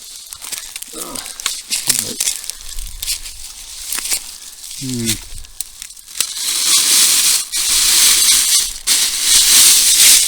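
Crinkling and tearing of cooking foil handled close by in a forest dump among bushes, irregular rustling bursts growing louder and denser toward the end, with a voice heard briefly.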